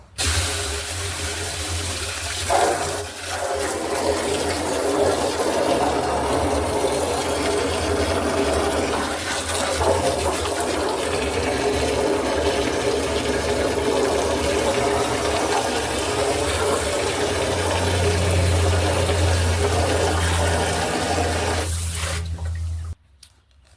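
Water pours steadily into a tank holding a rusty 5.3 engine block set up for electrolysis, a continuous rushing fill with a low hum, ending abruptly near the close, no talk.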